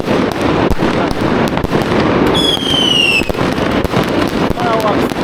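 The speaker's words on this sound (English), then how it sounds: "Fireworks." Fireworks exploding in China, a dense continuous crackle of bursts with a rising whistling shell streaking through the middle, loud and close throughout.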